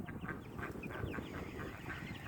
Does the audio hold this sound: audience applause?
no